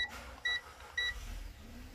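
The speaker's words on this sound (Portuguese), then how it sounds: "O bip também vai ficar firme." Two short, high electronic beeps from a multimeter sound about half a second apart over a quiet, low hum.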